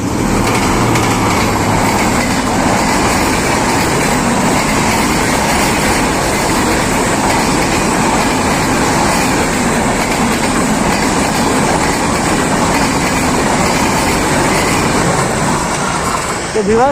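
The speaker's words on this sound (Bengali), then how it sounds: "আমি ওই পাশে ভিডিও করার সময় এই লাইনে ট্রেন চলে আসছে" A train approaches along a railway line with a loud, continuous rumble and rattling clatter of wheels on track. The noise stays close and fills the whole stretch, with faint talk beneath.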